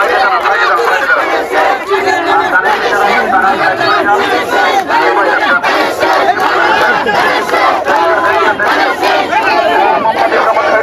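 Dense crowd chanting and shouting in a political procession at Bulla Bazar, Bangladesh, a sustained roar of many voices filling the whole stretch with no pauses.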